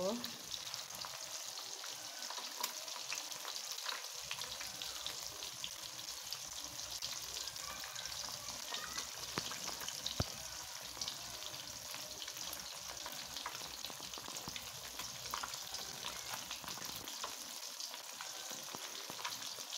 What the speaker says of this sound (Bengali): এখন এই মাছগুলোকেও আমি খুব সুন্দর করে লাল লাল, একদম ব্রাউন লাল করে ভেজে নেব।